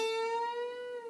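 A single sustained guitar note rings quietly and clearly, its pitch wavering slightly as it is bent, with no talk over it.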